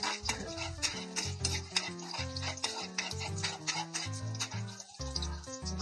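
Fried rice being sautéed in a pan, with constant sizzling and scraping stirs running throughout over a busy kitchen background.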